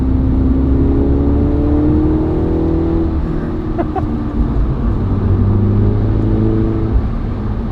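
A 2019 MINI JCW with a Pro exhaust hums steadily with low harmonic drone, rising in pitch as it revs, continuous and fairly loud throughout.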